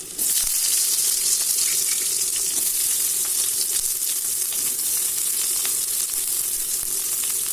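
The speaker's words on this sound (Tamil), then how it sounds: "அந்த பூண்டை வந்து இந்த எண்ணெயில் சேர்த்து வதக்கிடலாம்." Garlic fries in oil for a fish curry, giving a loud, steady sizzle that starts abruptly and crackles on without pause, with no voices.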